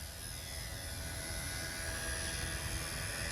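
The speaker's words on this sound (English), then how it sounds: "I don't think I want to turn the helicopter and face it towards me" An XK K110 remote-control helicopter flies close by, its small rotor and motor giving a steady, even whir with no pauses and no talking.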